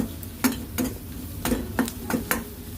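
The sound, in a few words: stirring okra with sambar powder in pan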